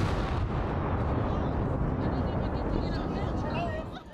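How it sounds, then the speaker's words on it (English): Demolition implosion of the Savanna-Sabula bridge: a loud, sustained rumbling blast roar that fills the whole stretch, easing off slightly at the very end. "the implosion explosion, catching some off guard"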